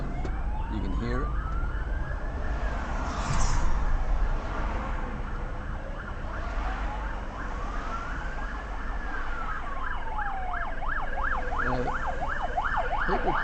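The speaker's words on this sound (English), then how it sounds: "there it is, the ambulance behind me" An ambulance siren wails in rising and falling sweeps, switching to a faster yelp near the end, heard at a distance from inside a car over steady road and engine noise.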